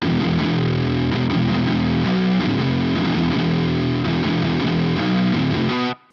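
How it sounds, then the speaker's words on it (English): A sustained, buzzing distorted synth or guitar tone from a trap metal track made in Ableton plays loud and steady with shifting chords, then cuts off abruptly at the end. "Then we can add that distortion."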